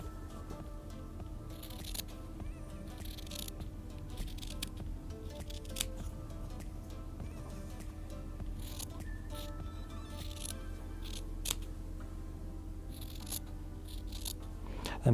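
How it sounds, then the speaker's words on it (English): Scissors snipping through heat transfer paper to cut out a T-shirt design, soft close-up crisp cuts and paper rustles recurring at an uneven pace under a quiet room hum. "And make sure you use a good pair of scissors as well."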